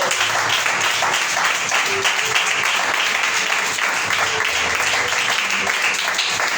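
A church congregation claps loudly and steadily together, a dense continuous wash of hand claps filling the room throughout, with a faint voice underneath.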